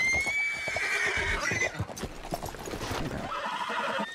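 Horse hooves clip-clop steadily while a horse neighs and whinnies loudly near the start, with more hoofbeats and clatter continuing throughout, in the video game Red Dead Redemption 2.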